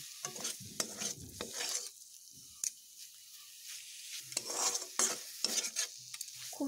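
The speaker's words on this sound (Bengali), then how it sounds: "এটিকে যত ভাজা হবে এর টেস্ট তত ভালো হবে" Giant taro stems are stirred and fried in a pan: repeated close scraping strokes of a spatula against the pan come in irregular bursts over a soft sizzle, with quiet gaps between and no voices.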